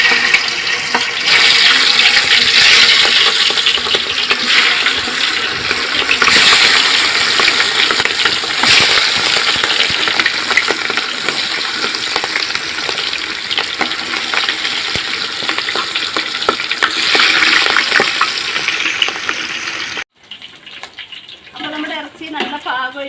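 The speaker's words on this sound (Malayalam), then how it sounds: "അപ്പോൾ നമ്മളിത് വറുത്തെടുക്കാൻ പോവുകയാണ്." Chicken rubbed with chili, turmeric and salt deep frying in oil for a Chalakudy dum biryani, a loud steady crackling sizzle running for about twenty seconds before dropping to quieter kitchen noise.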